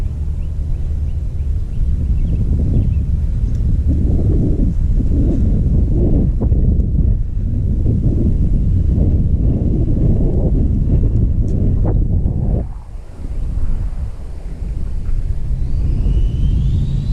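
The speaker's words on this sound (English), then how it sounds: "Got a little bit of wind today." Strong wind buffets the microphone outdoors during an ARRMA Typhon 6S RC car speed run, a loud steady low roar that dips briefly near the end before resuming.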